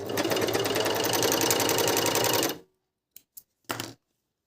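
A budget Dragofly 858 sewing machine stitching a seam runs fast with a loud, even rattle for about two and a half seconds, then stops, followed by a few short clicks and knocks.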